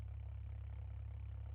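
A modded 2.8-liter inline-six car engine idles in the BeamNG Drive driving game, a steady, even low hum held throughout the short stretch.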